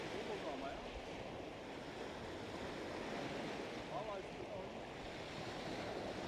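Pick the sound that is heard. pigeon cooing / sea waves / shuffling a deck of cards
sea waves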